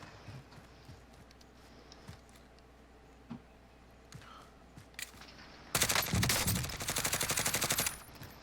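Rapid automatic rifle fire from a Grau 5.56 in the Warzone video game: a loud, dense burst of shots lasting about two seconds after a stretch of quiet game ambience with a few faint thuds.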